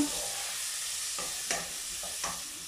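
A vegetarian mixture with cumin and turmeric being stirred in a pan, a soft hiss of sizzling with a few quiet scraping strokes, faint and close.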